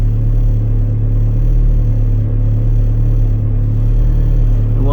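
A turbocharged Saturn S-series car engine idles steadily, a continuous low, even rumble held close throughout with no revving.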